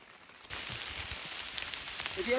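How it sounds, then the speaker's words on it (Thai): Heavy rain begins to fall in a border forest, switching abruptly from quiet to a dense, steady hiss of drops pattering on leaves and a shelter overhead, continuous and fairly close. "สิฝนตกแรงขึ้นกว่าเดิมอีก"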